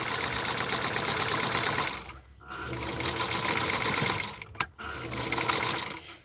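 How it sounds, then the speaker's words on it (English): Sewing machine stitching fabric at a point for a Skipper doll outfit from McCall's pattern 7841, a continuous close whirring run that stops twice briefly before resuming. "I'm sewing right at the tip, right there."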